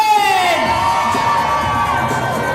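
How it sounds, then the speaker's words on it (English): Wedding guests cheer and whoop for newlyweds in a loud, continuous crowd roar with high shouts and whistles, close and sustained without a break. "Please give a big round of applause for the brand new Mr."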